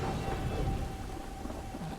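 Steady rain pours with a low, rolling thunder rumble throughout, a continuous stormy wash near a castle in the video game A Plague Tale: Innocence.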